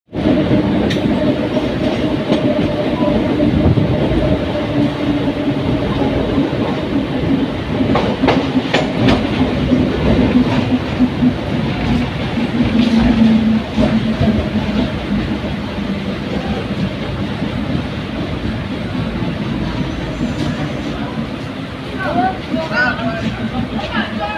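The Krishak special train runs from Shantipur to Sealdah with a steady rumble and clickety-clack of wheels on rails, heard from inside a carriage. Passengers' chatter and a voice speaking murmur under the continuous noise.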